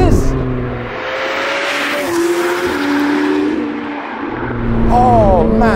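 A McLaren 765LT Spider fitted with a Novitec exhaust cornering hard, its loud engine note dropping under braking then climbing again as it powers out, with brief tyre noise; someone talks over it.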